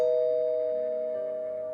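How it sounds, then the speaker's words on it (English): A doorbell chime rings at dusk on Halloween night, one sustained bright tone decaying slowly over nearly two seconds, clear and alone. "the doorbell rang again"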